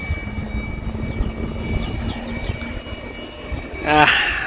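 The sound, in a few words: airplane taking off from airport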